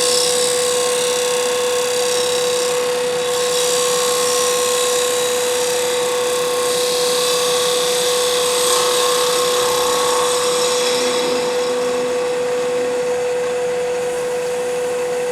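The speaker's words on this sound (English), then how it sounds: "This is my 3/8 Ellsworth gouge from D-Way Tools." A wood lathe turns while a 3/8 Ellsworth gouge from D-Way Tools cuts the spinning workpiece. It makes a loud, continuous whirring hum with a steady tone and a rough cutting hiss that holds evenly throughout.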